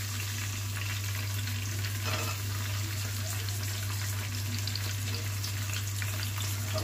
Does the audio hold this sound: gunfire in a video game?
no